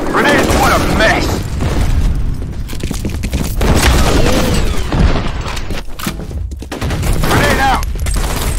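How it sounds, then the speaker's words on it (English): Grenade blasts and gunfire fill a firefight in the F.E.A.R. combat shooter, with repeated loud booms and bursts running nearly continuously, several heavy detonations standing out near the start and end. "Grenade out. Grenades, what a mess."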